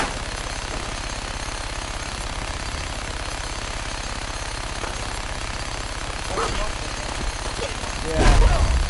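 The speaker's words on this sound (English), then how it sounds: "It sounds like a pneumatic drill," Rapid pneumatic drill-like rattling hammers on in Fallout 4, a steady dense clatter through the whole stretch that swells louder near the end with a burst of sharper noise.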